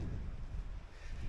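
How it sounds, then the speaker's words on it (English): Wind blowing at Burnhope Reservoir on an open walk, a soft, continuous rumbling rush across the microphone with no other sounds over it. "It's pretty windy again, which is nothing new really"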